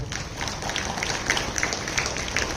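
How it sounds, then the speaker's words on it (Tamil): A church congregation claps at a feast-day First Communion Mass, a dense, fairly faint patter of hands that continues steadily throughout, slightly distant and diffuse. "கைத்தட்டி ஆண்டவர் நன்றி கூறுவோம்."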